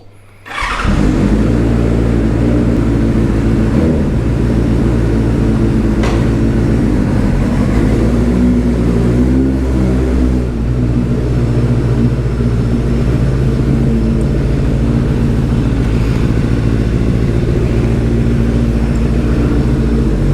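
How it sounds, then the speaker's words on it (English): A Benelli 600 GT motorcycle engine fires up and settles into a steady, loud idle, running continuously close by with no talking. "I'm just starting my bike"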